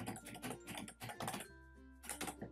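A password being typed on a computer keyboard during Yahoo email account sign-up: clusters of crisp, close keystrokes, a brief break with a faint tonal hum, then another rapid burst.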